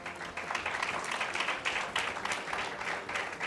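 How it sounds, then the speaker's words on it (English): Audience applause at an award-style ceremony, a dense, steady patter of many hands clapping together at moderate volume throughout. "A big round of applause for our colleagues."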